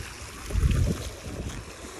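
Strong sea waves break on a beach, a low rumbling surge swelling loud near the middle and then easing into a steady wash of surf with wind.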